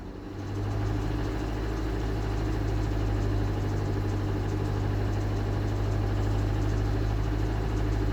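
Mazda CX-7 2.3 turbo petrol engine with 170,000 km, warming up after a cold start, is held at a steady hum slightly above idle. It drones evenly and continuously, close by, with no talking.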